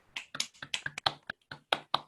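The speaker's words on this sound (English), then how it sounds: "So I'm gonna unmute all of you so we can clap." An unmuted online audience thanks a speaker with scattered claps and snaps, a dozen or so sharp, uneven hits, close and fairly quiet, with no talk.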